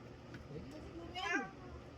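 A cat lets out a single rising-then-falling meow partway through, faint and fairly brief against a quiet background with some low voice-like murmur.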